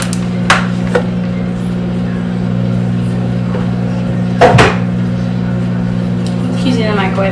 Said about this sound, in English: Using the microwave a lot today, because I'm about to heat up some mac and cheese too.